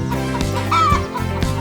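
A hen gives a short cluck over soft, steady background music, a single brief call near the middle.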